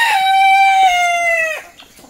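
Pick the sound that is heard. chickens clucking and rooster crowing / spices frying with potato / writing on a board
chickens clucking and rooster crowing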